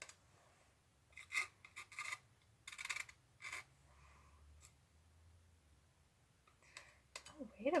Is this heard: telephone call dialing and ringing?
no